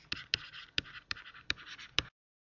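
A stylus writes on a tablet laptop screen in a quiet room: six or seven short, crisp tapping scratches at uneven intervals, close and faint, then silence.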